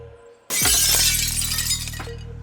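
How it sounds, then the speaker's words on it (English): Window glass shatters in one sudden, loud crash, followed by a bright spray of tinkling shards that trails off over about two seconds. No voices. "The sound of broken glass echoed behind us"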